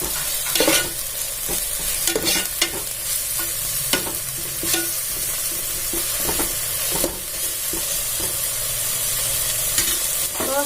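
Ginger garlic paste fries in a pan for chicken salna, a steady close sizzle with frequent scraping stirs throughout.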